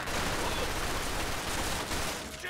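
Dense, continuous gunfire roars throughout in Mafia II, a loud wash of overlapping shots with no clear gaps, like a heavy firefight.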